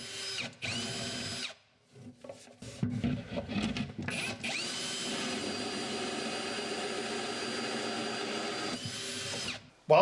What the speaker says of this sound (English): Then I can drill the holes from the inside out